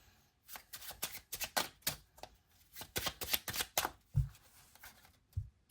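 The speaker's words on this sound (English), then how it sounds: "then this is what an overhand shuffle control should look like." Playing cards worked through an overhand shuffle control for sleight of hand: a run of quick, papery riffling slaps and flutters in close, uneven bursts, with a couple of duller thumps near the end and no talking.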